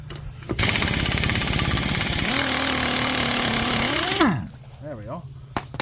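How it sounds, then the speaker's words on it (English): An impact wrench fitted with a chrome socket rattles loudly in one sustained burst of about four seconds on a Buick, its hammering pitch climbing before cutting off, then a brief spin-down. "So we're just going to go with the chrome socket on the impact."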